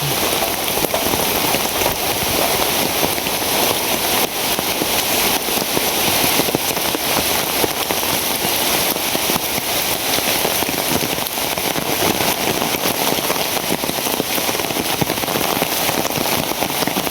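Steady heavy rainfall hammers down for a long unbroken stretch, a loud dense patter and hiss of drops on surfaces with faint crackling splashes throughout and nobody speaking.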